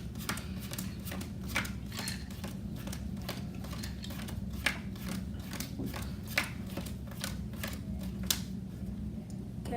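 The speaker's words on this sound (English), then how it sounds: "count 24 cards out of the deck" Playing cards are dealt one at a time from a deck in a quick, steady run of crisp snaps, with no talk over them.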